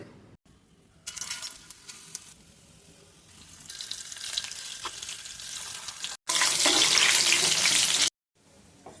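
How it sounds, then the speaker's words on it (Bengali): Loud bubbling hiss of winter-vegetable pakoras deep frying in hot oil comes in bursts, building to a roaring sizzle before cutting off abruptly near the end. "ফুটান্ত গরম তেলে এক এক করে সবগুলো ভেজে নিব।"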